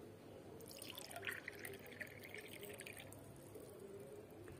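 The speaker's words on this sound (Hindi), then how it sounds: "अब हम इसको इस ग्लास में डाल देंगे" Vinegar is poured into a glass for a baking soda volcano experiment, a quiet trickling and splashing of liquid lasting a couple of seconds, faint and close, without speech.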